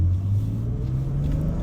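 A 1990 Alpina B10 Biturbo on the move, heard from inside as a steady low engine rumble with a faint drone and no speech.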